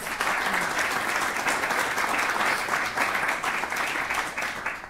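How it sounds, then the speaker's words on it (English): Audience applause fills a hall at a student group's talk on genetic data collection, a dense, steady wash of many hands clapping close and loud throughout with no pauses. "I think they do also deserve a round of applause"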